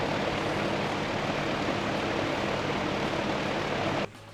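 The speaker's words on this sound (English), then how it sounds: "This is my pulling fan." A large pulling fan at a Dyno Dynamics car dyno, blowing a loud, steady broadband roar close by before cutting off abruptly near the end.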